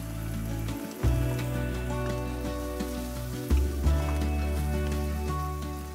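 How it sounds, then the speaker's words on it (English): Extra firm tofu sizzles steadily in a hot pan with ginger and peppers, a dense crackling hiss punctuated by a few louder stirring thumps. "Saute for about a minute."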